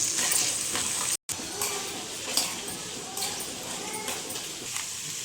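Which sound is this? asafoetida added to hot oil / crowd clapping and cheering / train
asafoetida added to hot oil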